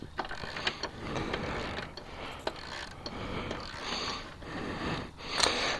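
Ratcheting wrench loosening the rear axle nut on a Yamaha FZ-10 (MT-10) motorcycle during a drive chain service, giving a run of close, quiet mechanical clicks and clacks.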